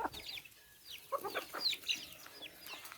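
Chickens cluck and chatter softly in a farmyard, with scattered short calls overlapping at a moderate distance.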